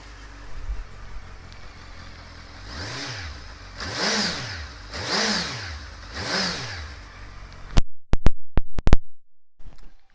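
A 2017 Suzuki GSX1300R Hayabusa with a Yoshimura exhaust and carbon hugger fires up and is blipped four times in even rising-and-falling revs, then gives several sharp, loud cracks near the end.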